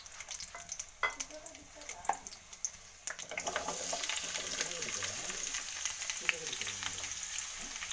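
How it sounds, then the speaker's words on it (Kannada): Capsicum and onion fry in hot oil in a pan, giving soft sizzling that thickens into a steady crackle, with occasional knocks and scrapes of stirring close by. "ಸ್ವಲ್ಪ ಫ್ರೈ ಮಾಡ್ಕೋತೀನಿ."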